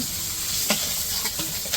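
Fish frying in oil in a village-style kitchen hisses with a steady close sizzle, broken by a few sharp pops and stirring clicks.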